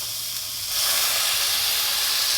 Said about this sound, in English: Bring out the old canola. Lubricate the base and whack in my meat.